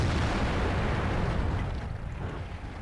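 A World of Tanks tank cannon, the gun of a German Waffenträger auf Pz.IV tank destroyer, booms loudly over battlefield rumble, its blast rolling out and slowly fading, with no speech.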